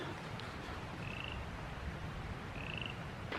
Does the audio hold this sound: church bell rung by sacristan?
no